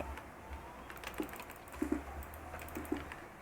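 Computer keyboard keys pressed while gaming, with one key held and another tapped rapidly, producing soft scattered clicks close by against a low background hum, without any talking.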